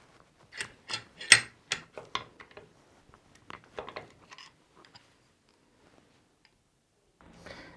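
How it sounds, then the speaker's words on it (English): A BMW 5 Series wiper arm bearing being pressed in with a vise and socket gives a series of sharp metallic ticks and clicks, close and fairly loud at first, then quieter scattered taps, with a faint rattle at the end. "We need a socket now that will just go in there so we can push the bearing in"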